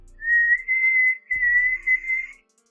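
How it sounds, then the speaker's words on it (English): A steady, shrill teapot whistle sounds alone as the teapot boils over, holding one high pitch with a brief break midway before cutting off. "there's the whistle. That's the teapot boiling over."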